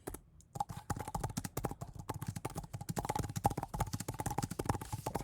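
Fast, even clicking of keys on a computer keyboard, close and clear, with a brief pause near the start before continuous typing resumes.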